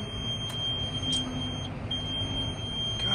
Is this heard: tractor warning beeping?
yes